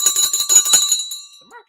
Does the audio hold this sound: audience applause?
no